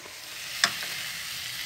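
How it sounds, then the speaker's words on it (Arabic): Tomatoes, onions and herbs frying in a pot for Moroccan harira, a steady hiss of sizzling oil with a single brief clink of a utensil partway through. "من بعد ما قليت كاع دوك المكونات اللي هما الطماطم والبصل والربيع والعطريه ديالنا"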